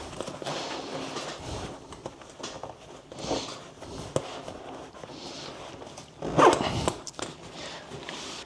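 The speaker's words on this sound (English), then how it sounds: "force the shoes into the main pouch and force the zipper shut like this" A zipper on an overstuffed 14-litre backpack is tugged in several rough, effortful pulls, with rustling fabric between them and one louder, sharper zip near the end.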